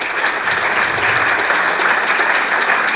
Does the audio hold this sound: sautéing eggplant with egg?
no